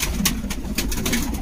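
A pigeon kept by a pigeon fancier coos softly and close by, a low throaty murmur repeated in short pulses with no voices over it.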